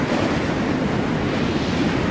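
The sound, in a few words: roaring hurricane wind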